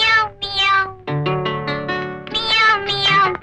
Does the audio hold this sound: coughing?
no